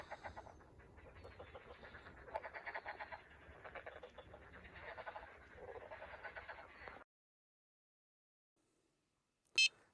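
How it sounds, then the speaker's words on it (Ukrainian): Frogs call at dawn beside a reservoir on the Southern Bug river, a chorus of pulsing, rhythmic croaks that runs fairly close for about seven seconds, then stops into near silence before a brief sharp electronic beep. "Світає, співають жаби."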